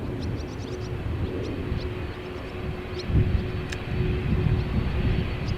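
An aircraft departs from runway 36 Center at Amsterdam Schiphol Airport, a steady, fairly distant engine rumble that swells slightly toward the end, with small birds chirping faintly above it.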